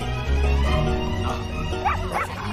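A dog gives a few short barks and yips in a busy film scene, close and mid-loud over a low hum and background sound.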